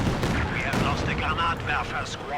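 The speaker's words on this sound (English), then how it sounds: "here comes some Katusha fire directly on the field point" Katyusha rocket artillery barrage in the World War II strategy game Company of Heroes 2, a rapid cluster of booming blasts and rumbling impacts heard under a commentator's voice.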